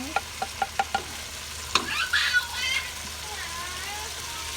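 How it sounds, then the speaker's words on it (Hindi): Tomato masala with dry spices frying in a pan, soft stirring scrapes and taps near the start followed by a brief sizzle swell, all fairly quiet and close. "और अब हम इसको अच्छी तरीके से भून लेंगे।"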